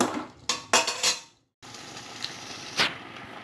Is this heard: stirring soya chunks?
yes